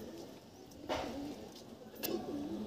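Desi high-flying pigeons coo in a loft, two soft throaty coos about a second apart over a low background murmur, close and moderately quiet.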